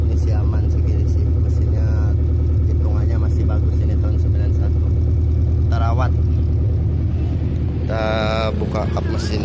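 Engine of a 1991 Suzuki Katana idles with a steady low rumble, close by with the hood open, while someone talks over it throughout.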